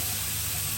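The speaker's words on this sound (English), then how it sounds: "I'm just going to let those cook just for a few minutes, just to kind of bring a few flavours together." Broad beans and vegetables sizzle steadily in a hot frying pan, a continuous close crackle with no talk.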